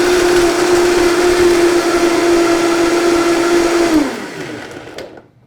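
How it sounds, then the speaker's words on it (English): A blender whirs loudly and steadily while blending a date shake with almond milk, holding a constant motor pitch for about four seconds before winding down and stopping. "Okay, I think that's pretty well blended."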